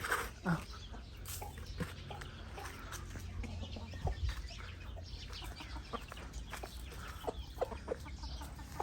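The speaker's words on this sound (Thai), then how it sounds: "น้องไก่ไม่สบาย" A sick chicken at a rural Thai home clucks faintly in scattered, soft bursts over a quiet outdoor background, with no talk.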